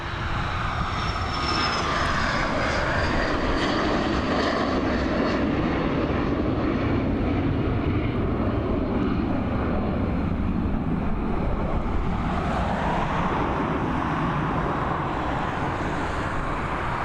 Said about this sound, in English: Here we go, Mr. Dassault Falcon. Now up and away.